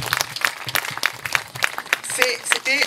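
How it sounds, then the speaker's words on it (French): An audience at a community night event in Kadiandoumagne applauds M. Diatta: distinct handclaps in a brisk, uneven rhythm, with voices and a short cry rising near the end. "nous voulons qu'on applaudisse M."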